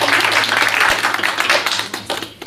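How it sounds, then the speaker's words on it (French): An audience at an environmental youth festival in Avallon claps steadily for a few seconds, a dense stream of hand claps that thins slightly toward the end. "On peut applaudir Camille"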